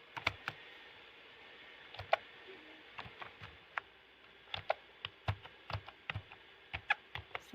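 A computer keyboard being typed on while entering text into a web page, with irregular clusters of sharp, crisp key clicks and brief pauses between bursts, heard close and alone over faint room hiss.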